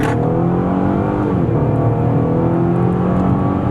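A retired police interceptor car's engine roars loudly and steadily, its pitch climbing as it accelerates hard at full throttle on the road, close by and uninterrupted.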